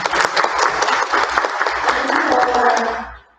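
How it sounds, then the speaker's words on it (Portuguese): An audience at a psychology lecture on the pandemic's mental-health effects applauds loudly for about three seconds, with a voice speaking over the clapping before it cuts off abruptly. "uma salva de palmas de favor"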